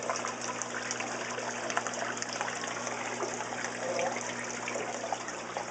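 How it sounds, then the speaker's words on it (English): Water runs into a row of old, cracked aquarium tanks and spills over, a steady close trickling and gushing over a constant pump hum, with no talk. "The water's coming in"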